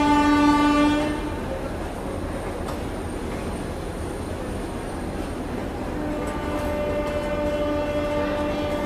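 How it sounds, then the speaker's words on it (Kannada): The Rameshwaram–Okha Express train arriving at an Indian station, opening with a loud horn blast and followed by a steady rumble and clatter of rail cars rolling past close by, continuous and heavy. "ರಾಮೇಶ್ವರಂ ಓಕಾ ಎಕ್ಸ್ಪ್ರೆಸ್ ಬಂತು ನೋಡ್ರಿ ಇಲ್ಲಿ."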